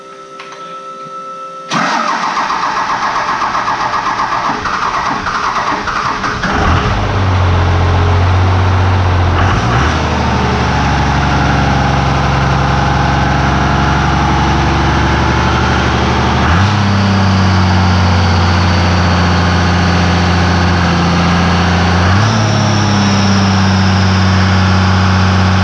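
A 12-valve Cummins diesel built to 850 horsepower cranks over and fires up, then settles into a loud, steady, deep idle with a couple of revs, close by with no talking.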